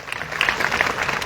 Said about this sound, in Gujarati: પાડો જોરદાર તાળીઓ